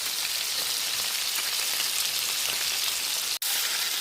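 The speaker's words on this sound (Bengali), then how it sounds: "গরম হওয়ার পরে সর্ষের তেল দিয়ে আমি মাছগুলোকে ভালো করে ভেজে নেব" Katla fish frying in hot mustard oil in a wok give off a dense, even sizzle and crackle that runs close and constant, broken by a brief dropout near the end, with no voices.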